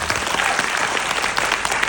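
An audience at a business motivational event applauds, a dense, continuous roar of many hands clapping, loud and uniform throughout with no talking.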